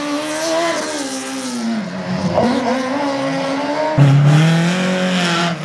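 BRC race car number 26 on a slalom track at Saint-Lô, engine revving loudly and continuously with rising and falling pitch through gear changes, a sharp surge near the end, no talk.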